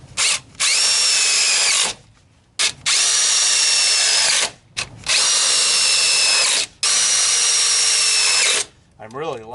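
A power drill driving a #8 half-inch stainless steel self-drilling screw, in four loud whining bursts of about two seconds each with short pauses between, close up and with no talk.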